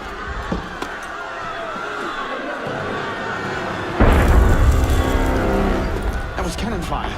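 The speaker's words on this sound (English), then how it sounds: "That was cannon fire." Cannon fire in the Assassin's Creed Unity game, a single heavy boom bursting out midway through the clip after quieter ambience and faint thuds, the deep rumble lingering and fading, with voices talking nearby.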